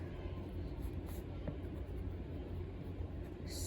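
Food items are written on a board in a children's science classroom, a soft continuous scratching of the writing stroke under a steady background hum, quiet and close, with no clear talking.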